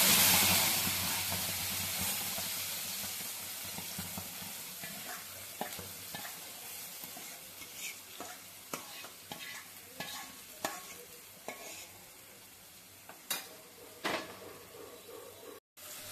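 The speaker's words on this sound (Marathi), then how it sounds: "आपल्याला हा मसाला घालायचा आहे." Masala spices and turmeric are stirred into a sizzling onion, garlic and tomato tempering for dhaba-style shev bhaji. A soft, steady sizzle runs under intermittent scraping strokes of a spoon against the pan.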